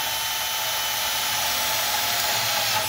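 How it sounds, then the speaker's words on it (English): A steady, loud whining drill bores through a spot weld on a Mustang coupe body, a constant high mechanical drone running continuously for a few seconds with no pauses and no voices. "take your mighty drill bit and drill through the spot weld"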